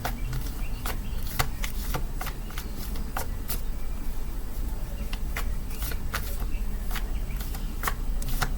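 A deck of tarot cards is shuffled over and over, each riffle a sharp papery burst repeating at a steady rhythm for several seconds, close and clear over a low room rumble.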